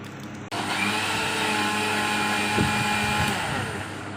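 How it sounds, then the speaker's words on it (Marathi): A kitchen mixer grinder blends thick mango pulp for ras, starting abruptly with a loud steady whirring motor drone that holds for about four seconds, with a brief rattling knock in the middle and no voices. "आता मिक्सर मग टाकू रस आणि पातळ कर लेऊ"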